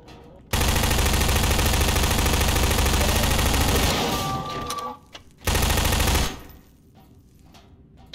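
Sustained automatic gunfire in a first-person shooter video game, fired into wooden boards: a long loud burst, a brief pause, then another short burst before it cuts off.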